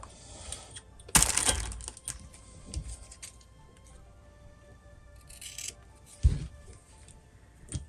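Scissors snip through elastic trim while sewing fabric bookmarks, a few sharp close cuts with quieter rustling between them.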